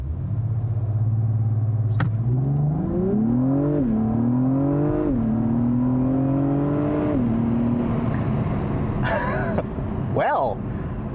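A 2021 Acura TLX Type S launches hard from a stop, its engine rising in pitch through several gears with distinct shift dips, loud and close inside the cabin, then a few brief clicks and beeps near the end.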